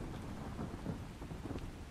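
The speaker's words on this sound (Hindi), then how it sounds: "क्योंकि बारिश आ चुकी है" Steady heavy rain pours with a low rolling rumble of thunder in Ark Survival Ascended, a dense continuous wash of sound with no voices.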